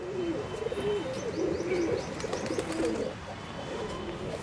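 A black-and-white dobaz pigeon coos repeatedly at close range, soft rolling calls in short phrases over a background of faint chirps.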